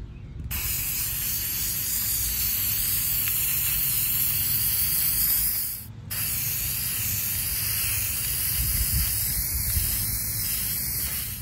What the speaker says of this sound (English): I'm just going to go ahead and lightly coat this with our Rust-Oleum hammered paint